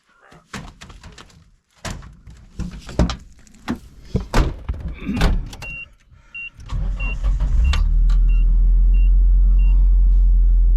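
A truck in the woods a mile from home cranks after a few thunks and door sounds, then catches and settles into a loud, steady idle close by. Voices speak briefly before it starts.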